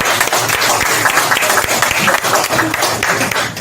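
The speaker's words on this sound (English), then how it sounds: "Let's have a big round of applause for Bob One." Audience at an aerosol arts conference applauds, a dense, loud wash of many hands clapping close by that keeps going without letting up, with faint voices underneath.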